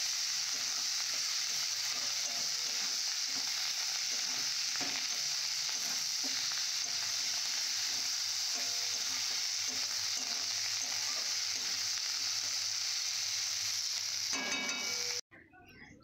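Rui fish curry with peas and coriander leaves sautés in a pan, a loud continuous sizzle with soft stirring scrapes that runs on for a long stretch before cutting off abruptly near the end.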